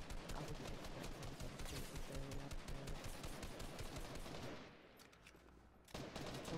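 Gunfire in Fortnite: dense rapid bursts of shots crackle continuously for several seconds, then drop away to quieter game ambience before a brief return of firing at the end.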